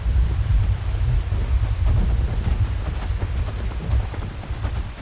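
Steady rain and a low rolling rumble of thunder from a storm in an Elder Scrolls game, near a hunter's camp on the way to the Morthal swamps, continuous and fairly loud with no voices.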